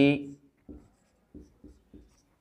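A pen writes out a maths solution in four short, dry scratching strokes spaced evenly, right after a brief spoken phrase.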